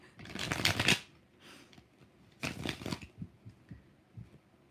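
Two quick bursts of tarot cards being riffled and shuffled close up, separated by quiet pauses and a few soft taps.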